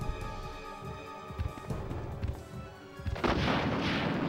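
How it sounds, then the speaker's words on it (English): A rocket launcher fires in Resident Evil: quiet rumbling and thuds lead into a loud, sudden rushing blast that keeps roaring to the end. "There's your rocket launcher. There we go, rocket launcher."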